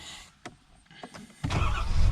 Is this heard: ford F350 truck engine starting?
yes